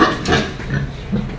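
Vietnamese local breed pigs on a farm grunt in low, close, rough snorts against continuous background noise.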